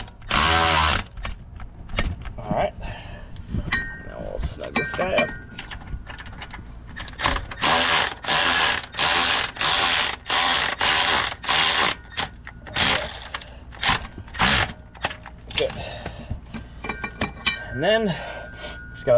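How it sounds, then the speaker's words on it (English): A ratchet snugs up bolts during a differential drop install on a RAM TRX, with repeated rapid clicking bursts close by, brief pauses between runs and some grunting and breathing. "Snug up the rest of the bolts"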